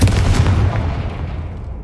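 Loud booming blast from the Bombarda spell in Hogwarts Legacy, a single heavy close explosion that decays over about two seconds.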